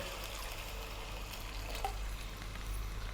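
Water poured into a pot of cooking beef, a steady low trickle and gentle sizzle running throughout, faint and close, with no voices.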